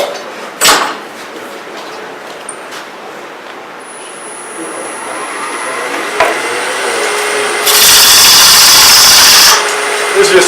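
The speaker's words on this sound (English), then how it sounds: "This is just a regular half-inch bull gouge here, I'm just going to rough it out with it." A half-inch bowl gouge roughs out a wooden blank spinning on a lathe, making a steady scraping hiss with a few sharp knocks and a loud burst of cutting toward the end.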